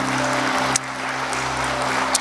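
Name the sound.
church congregation applauding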